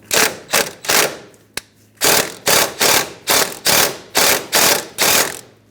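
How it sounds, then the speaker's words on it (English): A 3/8 impact gun fitted with a 12mm socket and short extension hammers at a rusty bracket bolt on a 2014-2018 Subaru Forester, firing about ten loud short bursts in a steady back-and-forth rhythm. "The socket I'm using is 12mm with a little extension and a 3/8 impact gun."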